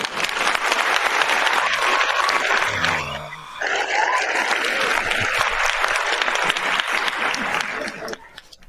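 A studio audience applauds to welcome Appalachian Bigfoot explorer Eric Tipton, with loud sustained clapping and cheering that briefly dips in the middle and then swells again before fading.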